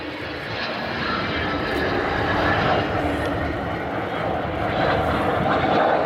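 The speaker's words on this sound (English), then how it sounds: "So Vulcan coming back in towards us." Avro Vulcan XH558 jet bomber making a display pass at an air show, a loud, sustained broadband engine roar that swells steadily as it comes back toward the crowd, continuous for the whole stretch.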